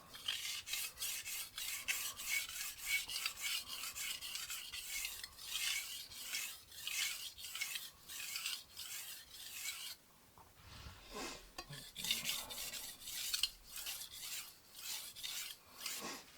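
A Wusthof kitchen knife is drawn over a VENEV diamond sharpening stone in repeated raspy strokes. The strokes run in a steady rhythm with a brief pause midway, close and fairly quiet, and no voice is heard.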